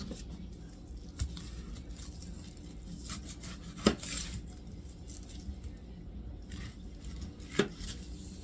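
Sharp knife chopping Vidalia onions on a cutting board, a few distinct knife strikes standing out at irregular intervals over a steady low background hum, close by and fairly quiet.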